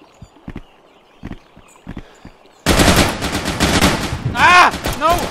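Gunfire in the video game Intruder: a few soft footsteps, then a sudden loud burst of rapid automatic shots continuing for several seconds, with a voice crying out over it.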